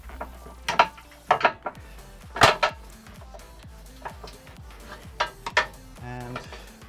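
Metallic clanks, knocks and scraping as a sway bar on a Ford Fiesta ST is twisted and worked past the steering rack, in irregular sharp bursts close by, with a few quieter rattles between.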